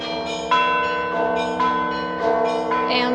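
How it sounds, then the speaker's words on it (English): Church bells at Moscow's Novodevichy Convent bell tower ring in overlapping, sustained peals, several strikes layering into a continuous resonant chime, moderately close. "from where you can hear how they ring the bells"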